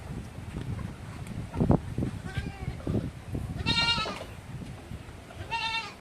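Two goat bleats, wavering and nasal, cut through background chatter and handling noise on a farm during castration, the second bleat shorter and a little clearer than the first.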